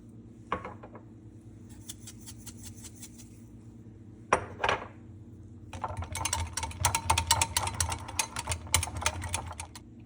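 Salt and pepper being added to an oil-free honey mustard salad dressing: a few light taps, then a quick run of dry, rhythmic clicking like a pepper mill being twisted, fairly close and quiet.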